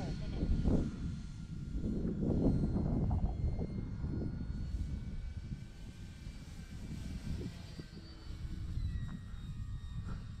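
A Turbo Timber Evolution RC plane flies overhead, its motor a steady droning whine that swells and fades at a moderate distance, with a person talking over it.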